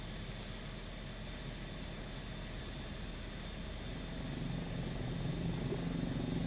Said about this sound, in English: I'm really quite puzzled by my engine sounds